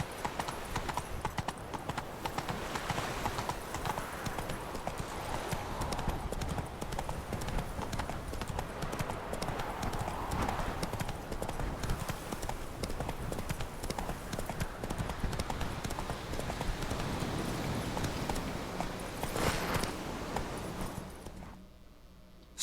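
Roach the horse gallops in The Witcher with steady, loud hoofbeats clip-clopping close by throughout, fading out at the very end.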